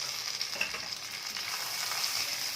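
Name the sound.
frying spice mix with tomato and green chillies in oil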